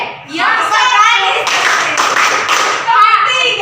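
An in-house training group performs a triple-clap ice-breaker, short bursts of hand claps standing out among constant speaking voices and murmuring in the room.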